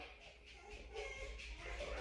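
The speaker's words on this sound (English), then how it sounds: "my dog is losing her ever-loving mind" A dog whimpering and fussing nearby, with faint whines and shuffling noises at low volume, and a quiet room tone behind it.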